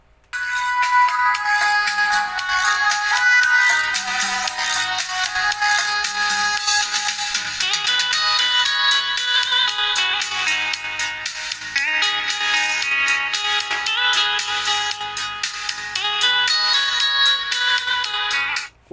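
A phone ringtone plays a bright, repeating electronic melody for nearly twenty seconds, loud and continuous with a steady looping rhythm, no voices over it.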